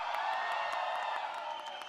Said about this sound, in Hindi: तो भूषण कुमार साहब के लिए भी तालियां हो जाए.